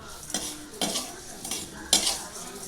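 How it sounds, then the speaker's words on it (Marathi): Poha dry-roasting in a pan for low-oil chivda, stirred with a utensil in four distinct scraping sweeps with soft rustling and light scratches between, close and moderately loud, no talk. "थोडे असे हलक्या हाताने आता त्याला फक्त आपल्याला भाजायचं आहे"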